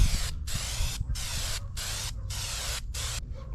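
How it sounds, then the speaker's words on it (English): A can of spray adhesive sprays onto the sides of a subwoofer box in short, even bursts, five hissing blasts separated by brief pauses, close and steady. "We're gonna start off by spraying the sides."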